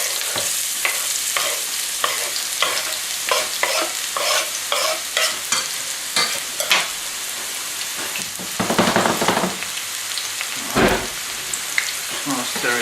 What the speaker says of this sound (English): Just gonna stir it real quick.